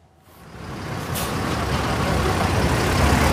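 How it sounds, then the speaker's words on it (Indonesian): Buses pull away to collect a group of regional heads at a station in Tegaluar, engine rumble building from near silence into a loud, steady roar, with a brief airy hiss early on and no talk. "Sejumlah bus diberangkatkan menjemput rombongan kepala daerah di stasiun Wush"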